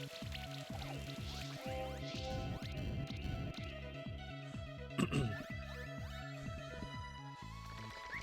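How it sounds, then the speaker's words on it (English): Acid rain attack from the video game Monster Sanctuary, a faint patter of sizzling, dripping effects layered over battle sounds, with a sharper burst partway through. "Let's see how much we can do if we just try and acid rain him down."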